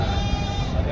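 Goats bleat loudly and up close at a livestock market, a brief dense burst of animal calls over a thick, crowded background murmur.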